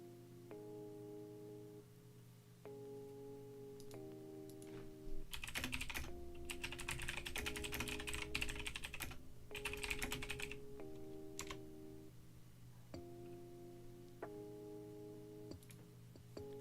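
Loud, rapid typing on a computer keyboard clatters in dense bursts over a quiet repeating electronic tone pattern, with sharp isolated keystrokes between the bursts and no talking.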